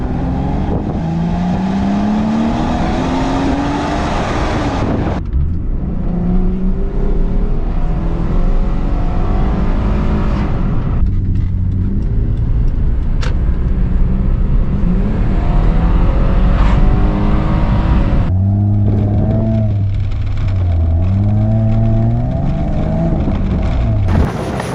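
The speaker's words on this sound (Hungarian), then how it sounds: "és arra a hangra, amit abból a dupla kipufogóból kiadott." A first-generation Hyundai Tucson's 2.7 V6 petrol engine roars through its dual exhaust, revving up and down repeatedly in loud, close passes and accelerations with rising and falling pitch, no talking.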